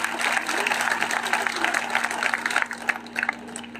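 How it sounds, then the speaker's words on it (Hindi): A rally crowd at an Indian National Lok Dal gathering in Balsamand, Adampur, claps steadily and loudly for several seconds, the applause thinning toward the end, with a constant hum from the public-address system underneath. "आप जोरदार ताली बजाने का काम करें।"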